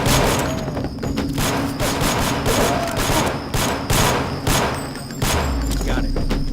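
Gunfire in the video game Deus Ex with the GMDX mod on Liberty Island, a dense run of rapid shots and thuds playing continuously under game music and someone speaking.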